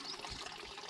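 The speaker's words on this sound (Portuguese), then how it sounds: "vou colocar um pouquinho de água aqui dentro" Water poured in a steady, continuous stream into a water tank holding fish, a soft, close splashing trickle that fills the whole short moment with no talking.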